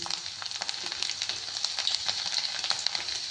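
Garlic frying in oil with black cumin (kalonji) crackles in a thin, bright sizzle full of small pops and spits, moderately quiet and close, with no speech.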